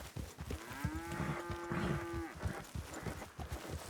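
A cow in Red Dead Redemption 2 gives one clear, sustained moo, heard near and alone over soft game ambience and scattered clip-clop footsteps.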